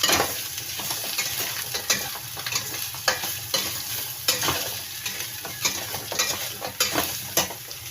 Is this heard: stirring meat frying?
yes